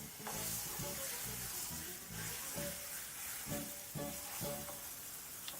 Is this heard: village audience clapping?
no